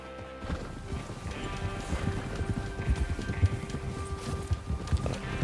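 Horses galloping in a train-robbery Western video game, a busy run of hoofbeats and clip-clop rhythm with a whinny, steady and fairly near, without talk.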